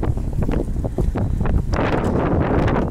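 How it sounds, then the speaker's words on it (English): Wind buffets the microphone during a drive in a 2020 Ford Mustang GT Premium with the Performance Package, a loud, gusty rumble with uneven rushing bursts, no voices. "There we go, let's try that to block the wind."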